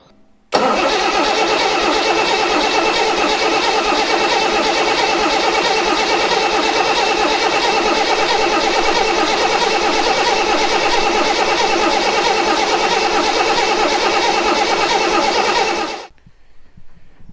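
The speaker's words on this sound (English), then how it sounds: "we're going to give it a crank now to see if it runs" Bedford engine in a Mk2 Stalwart being cranked on the starter without catching, a loud steady churning drone that runs continuously for about fifteen seconds and then stops abruptly.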